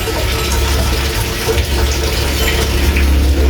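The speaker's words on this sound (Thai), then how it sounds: "ล้างจอกก่อน" Running tap water gushes steadily as a cup is washed under it, a loud, close, continuous hiss of flowing water.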